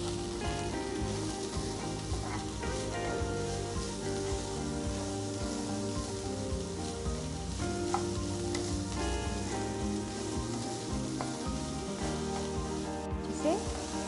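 Chopped vegetables and green peas stir-frying on high flame for a hot and sour soup, a dense continuous sizzle with occasional stirring scrapes and clinks, close and steady throughout.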